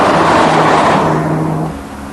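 A Mazda RX7 or Porsche 924S in fifth gear pulls steadily at high road speed, with a loud sustained engine drone and wind noise that fade slightly toward the end.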